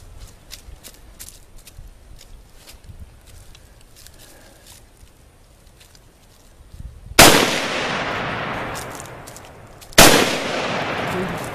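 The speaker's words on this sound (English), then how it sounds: "Shoot as fast as you can." Two loud gunshots about three seconds apart, each a sharp crack trailing into echo, after a quiet stretch with faint movement, from a gun fired outdoors by a first-time shooter.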